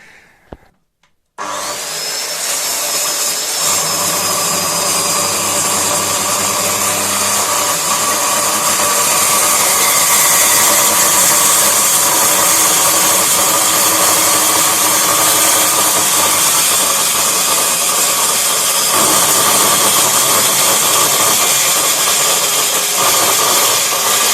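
An Einhell TE-PS plunge saw starts up after a short pause and cuts lengthwise along a board, its loud motor whine and blade noise holding steady for over twenty seconds, close and without speech.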